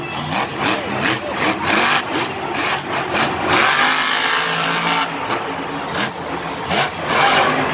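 A monster truck at a Monster Jam show in Minneapolis roars at full throttle with its back right wheel locked up, the engine loud and close, revving in surges over crowd and arena noise.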